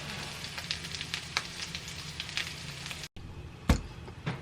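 Falafel patties frying in a pan of oil, giving a steady close sizzle with scattered crackles and pops, a short break, then one sharp louder pop.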